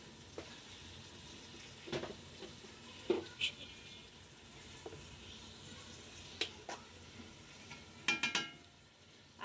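Meat sautés with salt and spices in a pot of tehari. Quiet, steady sizzling runs throughout, and scattered clinks and scrapes of a spoon against the pot come in irregular bursts.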